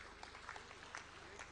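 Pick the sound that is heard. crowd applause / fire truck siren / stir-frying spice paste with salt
crowd applause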